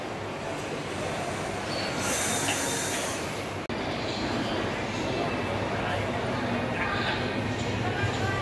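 Passenger train no. 20959 from Valsad to Vadnagar running between Vadodara and Ahmedabad, a loud steady rumble and rattle of wheels on rails heard from inside a coach, with a brief cut midway and a faint squeal.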